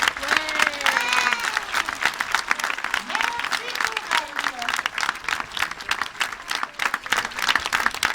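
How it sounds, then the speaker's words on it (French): A zoo audience applauds the sea lions after their show, a steady wash of many hands clapping with some cheering, while someone talks over a loudspeaker at the start. "je vous demande un tonnerre d'applaudissements pour nos amis les otaries."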